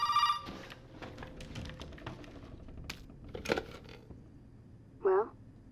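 A telephone rings in the horror game Resident Evil 7, a short ringing burst at the start and another near the end, with scattered clicks and rustles between them.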